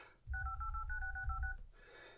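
Smartphone dialer keypad tones from a Samsung Galaxy, a rapid run of many short touch-tone beeps over about a second and a half, close and clear above a low rumble, with no talking.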